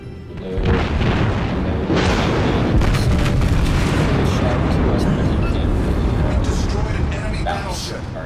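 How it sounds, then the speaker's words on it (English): Battleship main battery guns fire in the World of Warships game, a New York-class battleship among them, in a dense, continuous barrage of booms and rumbling blasts at steady high loudness for the whole stretch. "we're getting ready to shoot each other with more of our main batteries"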